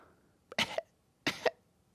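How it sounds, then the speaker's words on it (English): Two sharp coughs about a second apart, close and fairly loud, with quiet between them and a faint click near the end. "I just feel like you got a cold cough."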